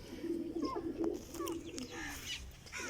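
Pigeons at a farmhouse loft coo in soft, repeated low tones, with a few brief chirps layered over steady background ambience and no talking.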